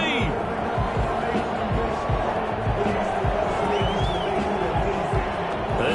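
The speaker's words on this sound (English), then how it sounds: "This home crowd, they're happy with that call." A home stadium crowd at a football game in the Madden video game cheers a referee's call as a dense, steady roar that fills the whole stretch, with commentators talking over it.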